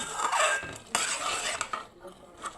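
A kalakand milk mixture, cardamom stirred in, is stirred in a pan, giving close scraping and clinking of a utensil against metal with a few sharper knocks, no voices.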